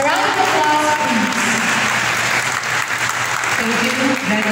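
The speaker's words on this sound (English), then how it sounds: "A round of applause, please." Loud, sustained applause from a crowd at a school moving-up and commencement ceremony, filling the space continuously, with some voices faintly audible beneath it.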